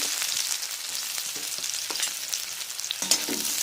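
Chopped onions and green chilies fry in white oil with a steady, close sizzle and hiss, broken by a few small pops and stirring scrapes, with no talk.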